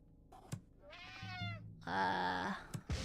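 A cat meows in the puzzle video game Slayaway Camp: a few short, clear, rising and falling mews with light clicks between them, close and alone.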